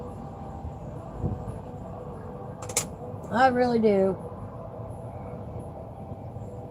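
A train sounds a short, clear horn blast of about a second, standing out over a low, steady background rumble.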